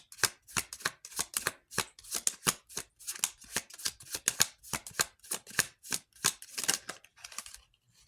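Crisp, rapid riffles of tarot cards being shuffled close up, a fast irregular series of papery flicks and snaps over about eight seconds with short pauses, no talking.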